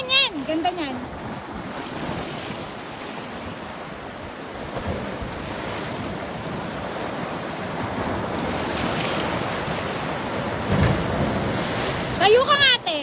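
Waves crash and wash on a shore in a steady roar of surf, with wind buffeting the microphone and heavier breaks swelling near the end, while voices speak briefly at the start and close.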